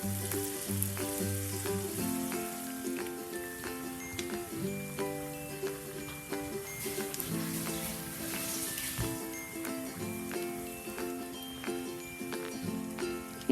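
Egg bajji fry in hot oil, a close steady sizzle and crackle with occasional clinks and scraping of a fork or utensil against the pan.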